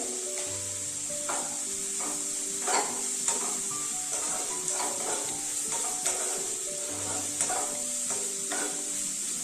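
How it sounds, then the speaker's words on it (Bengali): Potato vegetable filling fries in ghee in a pan, a continuous bright sizzle with repeated spoon scrapes and stirring knocks, close and steady throughout, with no talking. "প্রায় 3 টেবিল স্পুনের মতো ঘি যাবে আমার এটা ভাজতে।"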